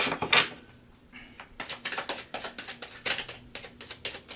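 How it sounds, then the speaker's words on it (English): Tarot cards being shuffled up close, a rapid series of crisp riffling and slapping bursts in uneven rhythm, with no talking. "we're almost done here shuffling"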